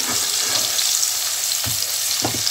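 Browned onions frying in a pan as ginger and garlic are added, a constant close sizzle with a couple of brief clinks and stirring scrapes near the end, no talking.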